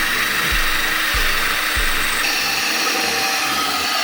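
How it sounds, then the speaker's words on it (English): A power drill whines steadily as it bores a hole in a metal minibike frame. A few low knocks sound at the start, then the grinding continues without a break. "So right now we're drilling a hole there."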